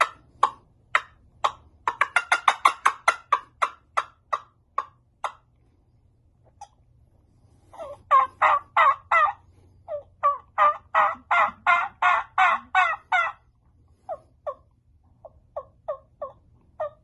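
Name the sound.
trumpet turkey call imitating turkey clucks, cackle and yelps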